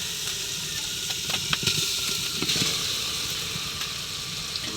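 Meat dropped into a pan of fried spice paste, giving a steady close sizzle with scattered crackles and stirring scrapes throughout, with no one talking.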